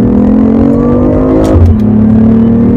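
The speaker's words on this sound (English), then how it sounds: "Yeah, to me this car sounds really good." BMW M4 engine revving loudly and steadily up close, its tone sweeping upward then dropping briefly before settling into a sustained high drone, with no talking.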